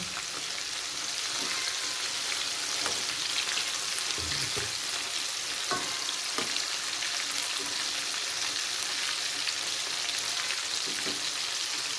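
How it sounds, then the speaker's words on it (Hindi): Pieces of fish coated in gram-flour batter fry in hot oil, a steady dense sizzle with occasional pops and crackles throughout, close and fairly loud, with no one talking. "इसको अब थोड़ा सा फ्राई करेंगे तो फ्राई हो जाए"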